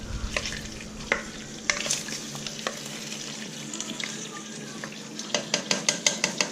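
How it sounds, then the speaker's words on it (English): Pork fat rendering into lard in a pot, bubbling and sizzling steadily while a utensil scrapes and clinks against the metal in quick stirring strokes, ending in a fast rhythmic series of taps. "Let's give it a stir real quick"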